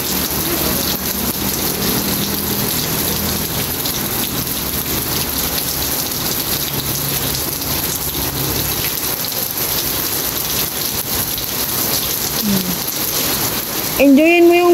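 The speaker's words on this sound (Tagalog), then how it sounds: "Nang ma-experience di po ni Ayang pagligo-ligo sa ulan." Rain falls steadily and heavily outdoors as a child plays and bathes in it, a constant wide wash of drops with distant rumbles, and a short voice at the very end.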